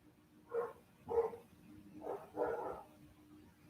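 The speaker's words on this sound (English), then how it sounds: "I don't know if you guys can hear my dogs barking" Dogs bark indoors, four muffled barks in an uneven rhythm, moderately distant and fairly faint against a quiet room.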